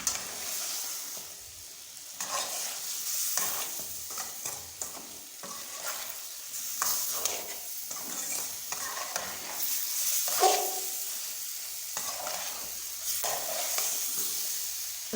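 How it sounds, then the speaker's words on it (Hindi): Spice masala frying and being stirred in a pan for samosa chaat, a steady close sizzle with repeated scraping stir strokes throughout, no voices. "तो इसे हम अच्छी तरह से मसालों के साथ पका लेंगे ताकि मसालों का जो कच्चापन है वो ख़त्म हो जाए।"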